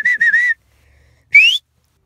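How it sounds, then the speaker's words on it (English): Loud whistles made without fingers: three quick rising-falling bursts, a pause, then one longer upward-sliding whistle, clear and close with no talk. "eventually you guys will get that loud whistle once you get used to it more."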